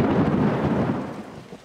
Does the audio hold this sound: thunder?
yes